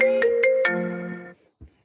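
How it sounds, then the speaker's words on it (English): A mobile phone plays a short, bright melodic ringtone of a few quick notes, fairly loud and close, which cuts off abruptly after about a second. "That's my phone."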